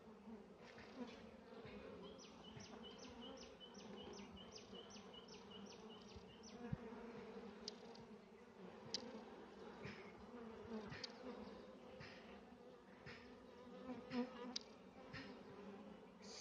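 Honey bees buzz around frames lifted from a beehive during a hive split, a steady close swarm drone with individual bees whining past the microphone, no voices.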